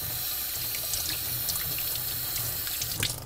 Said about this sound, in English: I'm just going to wash my hands now